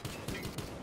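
Rapid gunfire in Battlefield Hardline: a quick burst of roughly four evenly spaced shots, fairly faint and distant, inside a short, busy firefight.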